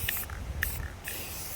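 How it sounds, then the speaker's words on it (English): Short hissing bursts from a spray paint can coating wooden cutouts outdoors, two or three quick sprays close by with brief pauses between them. "I think now that I've stopped spray painting"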